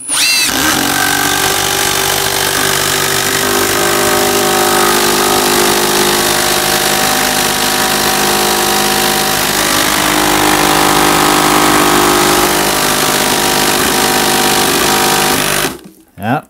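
A triple-hammer impact driver runs at full speed, a loud, steady, high-pitched whirring hammering that keeps going, with a voice faintly underneath, then stops abruptly near the end.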